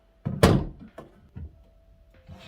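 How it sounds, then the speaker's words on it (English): An IKEA Kullen nightstand drawer is pushed shut, giving a loud wooden thunk followed by a few softer knocks and bumps as it settles, close up and alone. "So you can push your drawer inside."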